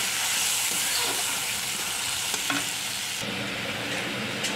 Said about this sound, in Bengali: এবার বেটে রাখা জিরেটা আর আধা জিরা পাতা দিয়ে দিলাম। ভালো করে কষিয়ে নিই